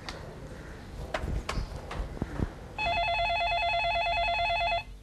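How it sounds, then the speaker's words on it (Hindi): A telephone starts ringing, a steady electronic warble that holds for about two seconds, after a few knocks and clatters nearby. "जाओ फोन उठाओ।"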